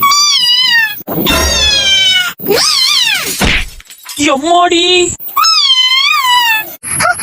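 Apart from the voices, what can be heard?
neighbor's cat in animation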